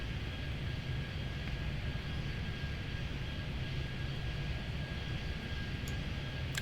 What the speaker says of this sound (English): Look at some planes moving at a faster clip